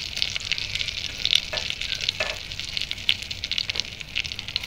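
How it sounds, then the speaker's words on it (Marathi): Paneer butter masala gravy with Kashmiri red chilli, turmeric and coriander sautés in a pan. It makes a loud, busy sizzle broken by scraping stirs and small spattering pops. "1-2 मिनिटात ती ग्रेव्ही परतून घेतली."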